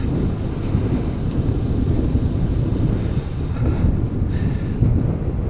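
Strong wind buffets the microphone in a constant low roar, gusting unevenly throughout with no voices.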